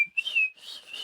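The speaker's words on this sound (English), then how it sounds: "Whistling for the dog, or whistling for Frankenstein." A single clear, high whistle, held steady for about a second, close and alone.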